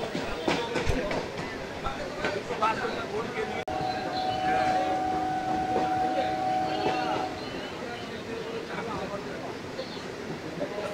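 A local train on the Dumdum to Majerhat line rumbles along steadily, passing Kumortuli near the Shobhabazar Ahiritola stretch, with a sustained metallic tone midway and a voice talking over the running noise.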